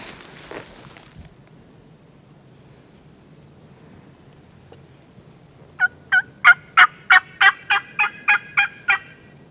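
A wild turkey gobbles in a quick burst of about ten rolling notes during a spring hunt, clear in the morning stillness after soft rustling and faint footsteps near the start.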